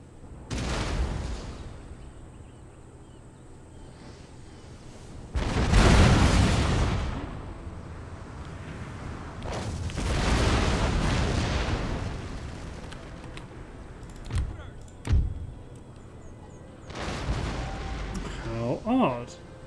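Artillery pieces in Empire: Total War bombarding a fortress wall at a breach, several heavy booming blasts spaced a few seconds apart, each with a rolling tail, and smaller pops between them.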